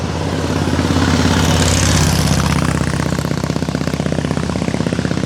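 A restored concours 1937 Indian Chief 74ci motorcycle is ridden on a country road, its engine a loud, steady throbbing rumble with fast rhythmic pulses that hold throughout.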